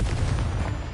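The Confringo fire spell from Hogwarts Legacy detonates in one short, loud, dense blast with a rumbling low body, heard up close and alone.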